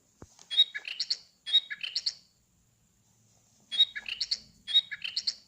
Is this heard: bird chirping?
yes